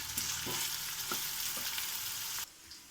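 Ginger garlic paste fries with turmeric in a pan for cauliflower fry, a quiet, steady sizzle with a few soft stirring knocks before it suddenly drops away near the end.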